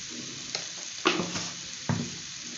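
Raw banana fry is stirred in a pan, producing three separate scraping strokes over a low, steady sizzle, nearby and moderately quiet, with no voices.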